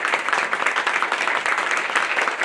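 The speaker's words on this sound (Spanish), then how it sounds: "Vamos a brindarles un caluroso aplauso a Claudia Nahuelán, Karen Pozo, David Román," Warm audience applause at a Spanish-language book launch honoring several book authors, a dense, steady wash of many hands clapping that stays loud and even throughout.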